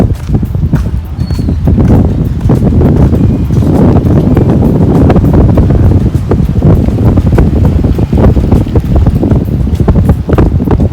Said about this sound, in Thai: ลมแรงเหลือเกินนะ